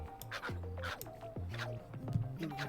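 Cartoonish dog from the video game Wobbledogs yipping in a quick series of short, high yips and whimpers, close and clear amid other steady game sounds.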